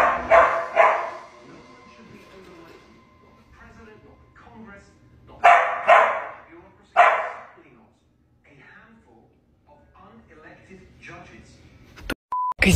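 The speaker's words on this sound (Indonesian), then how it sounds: "ia mendengar suara berisik yang berasal dari anjingnya yang terus-terusan menggonggong" A dog barks repeatedly in loud, sharp bursts, with the barks clustered at the start and again in the middle and quieter stretches between them, ending with a brief electronic beep.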